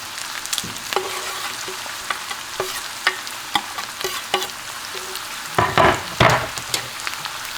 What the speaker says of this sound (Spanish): Y los revolvemos.